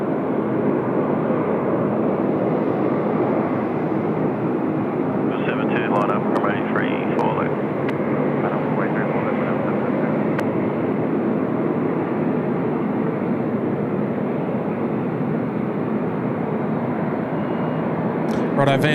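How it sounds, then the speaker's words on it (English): A United Boeing 777-200ER airliner's noisy pushback heard from across an airport, a steady, broad engine roar running throughout at a distance, with faint higher tones briefly rising above it. "we could hear their noisy pushback from all the way across the airport."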